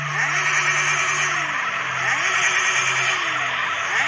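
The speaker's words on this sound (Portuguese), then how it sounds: "Vamos tirar de giro com a Kawasaki." A Kawasaki motorcycle engine revs hard in GTA San Andreas, a loud, steady, buzzing whine that rises and falls in repeated sweeping pitch climbs as the throttle is worked, with no talk over it.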